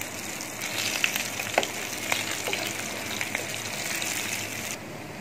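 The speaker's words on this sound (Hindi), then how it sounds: "अब सिर्फ हमने मसाले को ही फ्राई करना है जो हमने इसके ऊपर अभी लगाए हैं आपके सामने" Masala spices frying on mutton chops make a continuous close sizzle and bubbling crackle, with a few sharper pops rising above the steady hiss before it drops off at the end.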